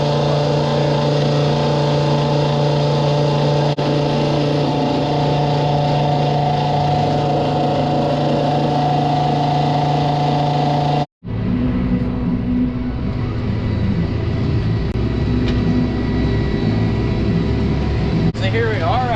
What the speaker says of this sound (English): So here we are out here mowing with the new tractor.